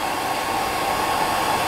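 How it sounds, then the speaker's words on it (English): A hair dryer blows steadily on a fly-tying tube fly to set super glue, a constant loud airy whoosh with no pauses and no voices. "we have a hairdryer on it, you'll see how it flows."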